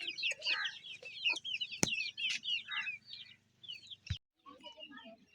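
Hens cluck and chatter in a busy household flock with a goat nearby, overlapping calls close by, with a couple of sharp knocks and a low steady hum underneath.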